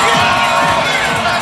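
Crowd cheering and shouting at a women's college volleyball match in Gill Coliseum, a loud, steady roar of many voices filling the arena throughout.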